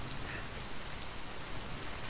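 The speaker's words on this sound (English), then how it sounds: "I shouldn't stand in the rain too long." Steady rain in the Mario the Music Box video game, a constant even hiss of falling water with no pauses or other sounds.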